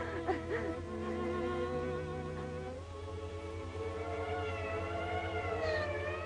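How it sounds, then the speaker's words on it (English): An ambulance siren wails, rising and falling continuously over a steady low rumble in a 1939 film, fairly loud and sustained with no clear talk. "The ambulance."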